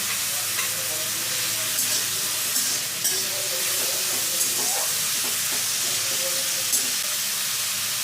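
Garlic paste frying in a pan with onion paste for green chicken, a steady close sizzle and hiss with faint stirring scrapes running through the whole stretch, no voices.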